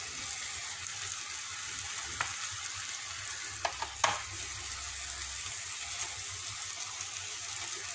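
Msemen filling frying in a pan as it is stirred, a steady close-up sizzle with a few light scrapes and clicks of the spoon against the pan.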